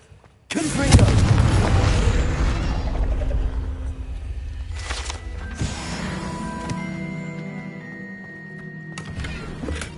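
A Confringo fire spell blast in the Hogwarts Legacy video game hits with a sudden loud boom, followed by a sustained rumbling, crackling fiery roar and a second burst midway, with no talking.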